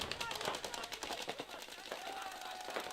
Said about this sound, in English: Who's shooting up there?